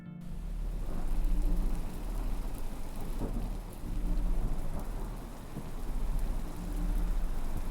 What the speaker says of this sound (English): Anybody out there spooked by the rain?